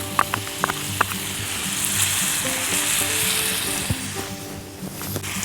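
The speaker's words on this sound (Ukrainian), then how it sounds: "Додаємо також помідорчики та кукурузу." Tomatoes and corn hit a hot frying pan for quesadilla filling and sizzle steadily, a close crackling hiss with a few sharp pops at the start and stirring clinks, no talking.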